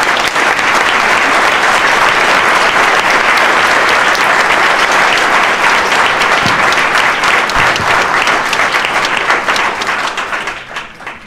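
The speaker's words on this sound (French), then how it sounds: "Applaudissements." A large crowd at an anti-war meeting in defense of women workers' rights bursts into sustained, loud applause that keeps a dense steady clatter before fading at the end.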